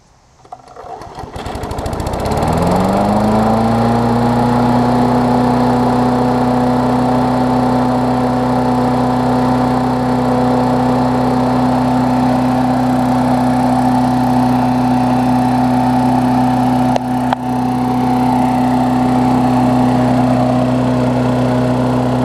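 A Briggs & Stratton Classic engine on a Bolens-deck lawn mower starts and settles into a loud, steady idle, holding an even drone with one brief hiccup near the end, close to the microphone and without talk.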